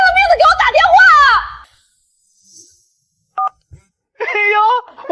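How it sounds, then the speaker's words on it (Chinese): A string of electronic telephone dialing tones beeps in short bursts between stretches of excited talk, with brief silences separating the tones. "到底是谁拼了命的给我打电话啊"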